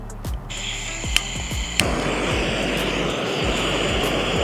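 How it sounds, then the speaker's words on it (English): A Coastal Range Backpacker gas stove burner clicks a few times, then catches and settles into a steady, loud roaring hiss of burning gas that continues to the end. "Open the gas, click the button,"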